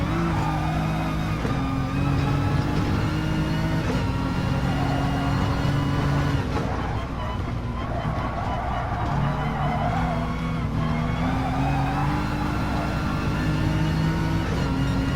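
A race car engine in a racing simulator drones and revs continuously at close range, its pitch rising and falling with throttle changes and lifts, steady and loud throughout.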